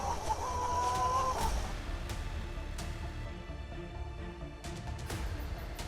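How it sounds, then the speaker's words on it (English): Chickens cluck and cry inside a coop at night, scattered nearby squawks and calls over a steady low rumble, with one longer cry early on. "The sound of flapping wings and shrill cries echo in the quiet night."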